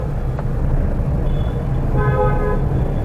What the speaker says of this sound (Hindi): हॉर्न दिया